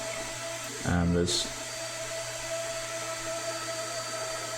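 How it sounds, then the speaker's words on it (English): Steady vacuum cleaner hum droning in the background throughout, under a brief spoken phrase and an electronic music track. "somebody's vacuuming in the background"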